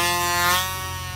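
An Air Hogs Accelerator toy plane's air engine whines steadily in flight, a brief, buzzing tone that swells slightly and then fades a little.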